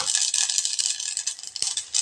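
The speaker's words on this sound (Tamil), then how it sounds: "கடுகு கொஞ்சமாக போட்டுக்கலாம்." Mustard seeds dropped into a few spoonfuls of hot oil in a pan, a dense close sizzle with quick irregular pops and crackles throughout.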